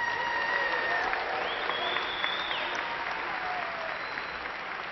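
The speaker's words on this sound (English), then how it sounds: "please honor these graduates with a round of applause" Audience applause for graduates at a fall university commencement ceremony at Angelo State University, a steady wash of many hands clapping in a large hall, sustained and even throughout without a break.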